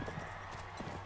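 Faint, quick clip-clop of a horse's hooves in the medieval combat game Mount & Blade Warband, a light rhythmic patter set low under a steady background hum.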